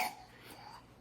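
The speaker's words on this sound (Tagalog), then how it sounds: "May ubo siya" A sick young boy gives a short, faint cough in a quiet room.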